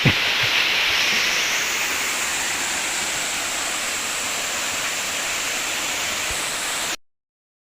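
Bagac Falls, a waterfall in Bataan, roars as a loud, continuous rush of falling water heard up close, steady from start to finish before cutting off abruptly.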